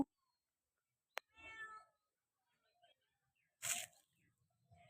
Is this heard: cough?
no